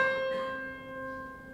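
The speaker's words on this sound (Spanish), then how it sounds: "Y la mitad de la cuerda suena así." A half-length monochord string, plucked, rings out at a higher pitch, a clear sustained tone with shimmering overtones that slowly fades, heard alone.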